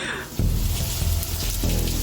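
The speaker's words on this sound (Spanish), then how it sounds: "Por acá ha comenzado la lluvia." Steady rain falling during Hurricane Erin in the Dominican Republic, a dense, broadband hiss of drops on surfaces, fairly loud and close, with no wind and no talking.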